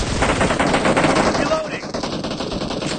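Rapid automatic gunfire from the battle-royale video game PUBG rattles loudly and continuously in dense bursts, easing slightly toward the end.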